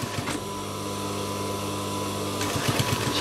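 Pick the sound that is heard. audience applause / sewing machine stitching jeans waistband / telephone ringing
sewing machine stitching jeans waistband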